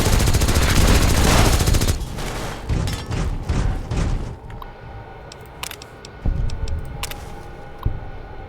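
Video game gunfire plays as sustained rapid automatic bursts followed by scattered single shots and thuds, loud and dense, with no talking.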